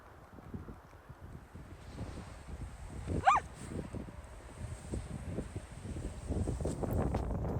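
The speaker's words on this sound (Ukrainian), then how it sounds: "Ну і вітер також дуже сильний" Strong wind buffets the microphone with a continuous low rumble and gusts in an open field, while a dog barks and yelps briefly in the middle.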